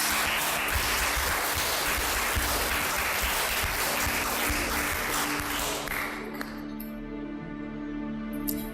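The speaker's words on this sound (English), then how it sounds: "Clap for her, please." An audience at a declamation contest applauds a contestant with a dense, sustained burst of clapping that fades out toward the end, leaving a faint tonal hum.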